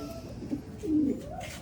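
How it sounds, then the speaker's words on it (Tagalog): A racing pigeon at a pigeon race gives soft, close, throaty coos, two short rounded calls in quick succession over faint background murmur. "Ito na ang ibon."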